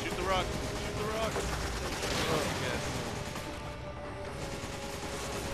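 Gunfire aimed at a rock in the video game Resident Evil 5, a dense run of game shots and crashing effects over steady background game audio, with faint voices mixed in.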